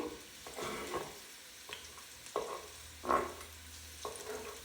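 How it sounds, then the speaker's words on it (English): Chopped onion sautés in a hot pan with a steady sizzle, broken by repeated scraping strokes of a utensil stirring it. "We're going to saute the onion."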